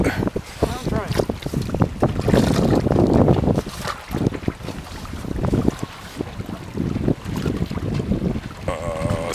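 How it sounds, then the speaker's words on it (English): Strong wind buffets the microphone in rough gusts while fishing from a boat in pouring rain, with water and boat noise churning underneath and voices speaking intermittently. "The wind is howling, the rain is absolutely pouring on pouring down."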